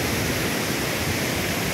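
Strong rushing water of Bolinao Falls pours in a loud, steady roar, a dense broadband wash that holds constant with no break or voice.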